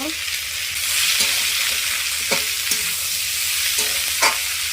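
Chopped onions with a spoonful of salt fry in a pan, giving a steady close sizzle with occasional scrapes and taps of a spatula as they are stirred.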